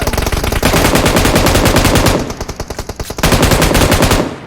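Loud automatic gunfire from the shooter game PUBG Mobile, long rapid bursts with a short pause of separate shots in the middle, then another sustained burst.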